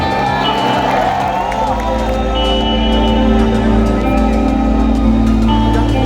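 A large crowd at an outdoor music festival in Lahore claps and cheers continuously, loud and dense, with whoops rising out of the steady roar.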